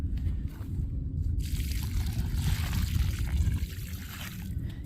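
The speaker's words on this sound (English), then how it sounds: "grab a bucket and water this in" Water poured from a bucket into a planting hole around a bareroot sugar maple whip: a steady, close splashing and trickling gush lasting several seconds, with no talk.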